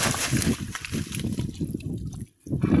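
Fish caught in a fishing net thrash and splash in shallow water, giving rapid, irregular close-up sloshing and slapping that briefly pauses before resuming.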